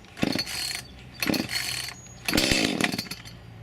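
Three rough mechanical pulls of a small chainsaw's starter cord, choke fully out, each a short whirring burst, the last longer and louder as the engine sputters briefly without catching.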